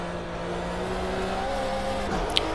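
Steady engine drone of a Porsche race car at Le Mans in rFactor 2, a continuous loud hum with a slight pitch rise, heard from inside the cockpit.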